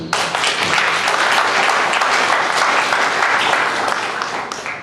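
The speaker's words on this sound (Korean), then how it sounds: "우리 모두를 위해서 한번 좀 격려의 박수 다 하시면 좋겠습니다." Steady applause of encouragement fills a church as the congregation claps together, dense and even, loud and close, tapering slightly at the end.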